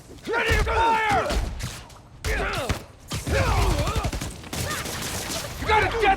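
Bursts of gunfire in the Spider-Man Miles Morales video game, clattering volleys and thuds mixed with shouting voices and combat effects in a busy fight.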